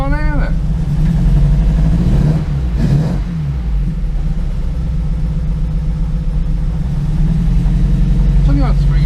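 A car engine misfiring on only three cylinders idles loudly and roughly close by, with an uneven, lumpy throb and brief revs. Voices can be heard over it.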